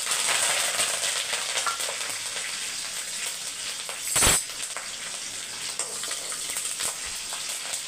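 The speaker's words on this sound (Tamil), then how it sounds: "சோம்பு போட்டுக்கலாம். நல்லா பொரியட்டும்." Fennel seeds fry in hot oil with a steady, fairly quiet crackling sizzle, marked by one sharp clink of a utensil midway, and no voices.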